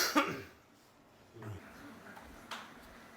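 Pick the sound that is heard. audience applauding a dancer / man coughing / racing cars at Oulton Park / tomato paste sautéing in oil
man coughing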